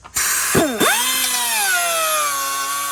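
A power tool spins up and cuts into a plastic snorkel riser part for a Can-Am Outlander ATV, with a loud, close whine that rises then holds steady as the blade bites, a couple of brief dips near the start.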